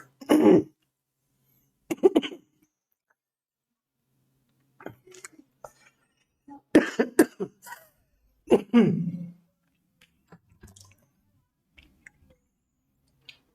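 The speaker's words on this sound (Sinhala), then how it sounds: "මට කැස්සක් ඇදුණා" A woman coughs in a quiet closed room during a geometry lesson, several separate dry coughs and throat clearing spaced over the span with silence between bursts.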